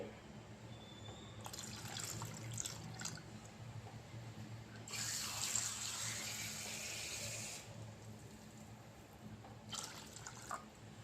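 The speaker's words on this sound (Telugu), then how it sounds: "ఇందులో సరిపోయినంత వాటర్ కూడా వేసేసుకోవాలి." Water pours and splashes in bursts into a cooking pot while making jeera rasam, with quieter gaps between, over a low steady hum; fairly faint overall.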